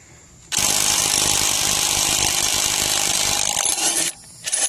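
A Craftsman C3 3-speed impact driver set to third speed hammers continuously for about three and a half seconds, a loud, dense rattling burst that starts abruptly and stops, followed by a brief faint blip.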